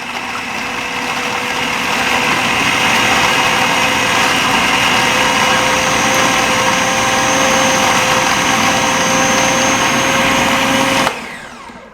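A food processor whirs steadily at close range, blending a burger spread for Mediterranean burgers in one continuous loud motor run of about eleven seconds before cutting off abruptly.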